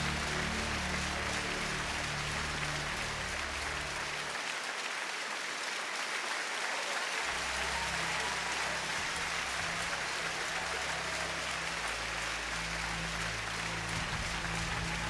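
Crowd applause fills an arena at a women's gymnastics world final in Stuttgart, a steady broadband wash of clapping that runs nearly throughout at moderate level, briefly thinning for a few seconds midway.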